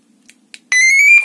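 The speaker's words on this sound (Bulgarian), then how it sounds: "първи бутон сме записали, включва алармата" Car alarm switched on by a copied remote control: two faint clicks, then a loud, steady high-pitched electronic tone starts abruptly and holds, with no talking.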